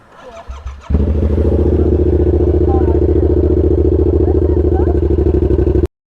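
An R7 sport motorcycle engine fires up and settles into a loud, rapid, throbbing idle with a rough exhaust rumble, then cuts off abruptly; brief voices beforehand.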